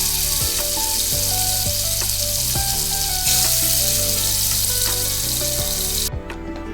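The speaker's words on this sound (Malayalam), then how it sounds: "മീൻ ഇട്ട് കൊടുക്കാം. മുളക് ഉപ്പൊക്കെ പരത്തിയിട്ടാണ് പൊരിച്ചെടുക്കേണ്ടത്." Fish spread with chili and salt sizzles and fries steadily in a hot pan, a dense continuous crackle with small clinks from handling the pan.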